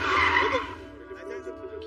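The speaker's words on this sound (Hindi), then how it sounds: "अरे रोको गाड़ी रोको" Car braking hard and skidding to a stop on a busy road in a dubbed film scene, a loud tire screech for under a second that fades into a lower rumble, with background noise continuing afterward.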